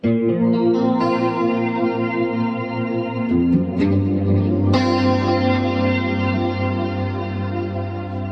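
Sustained electric guitar chords through a Boss MS-3 octave delay and particle reverb ring out with thick echo and shimmering reverb, higher octave tones layered above, swelling and washing into a dense wall of sound.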